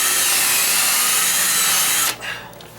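A power drill bores a hole into a wooden deck column during dry rot repair, a loud close whine running steadily for two seconds before cutting off and spinning down.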